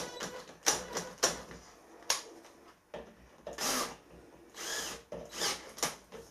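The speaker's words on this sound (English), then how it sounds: "I do a lot of freehand drilling on snap studs" A cobalt drill bit bores freehand into metal snap studs, giving short grinding bursts with gaps between them, close and fairly loud, with no talking.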